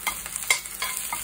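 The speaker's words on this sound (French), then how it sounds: "On va juste faire dorer légèrement nos petits pois gourmands." Snow peas being stir-fried in a wok, with quick scraping tosses against a light sizzle, close and brief.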